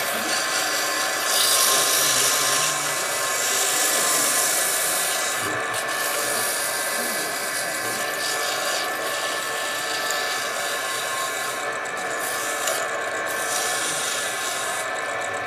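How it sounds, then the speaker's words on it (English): Continuous close, raspy rubbing of abrasive against a wooden whistle spinning on a lathe, a steady hiss with brief pauses and shifts in pressure. "so we'll do our sanding."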